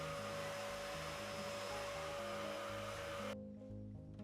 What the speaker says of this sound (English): Use a vacuum for the small debris.